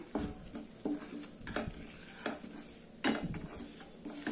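Finger millet flour roasting in ghee in a pan, stirred with a spoon: a few scattered scraping knocks against the metal over a faint low sizzle, close by and without speech.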